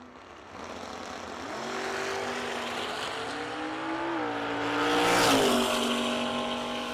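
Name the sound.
drag race cars launching off the start line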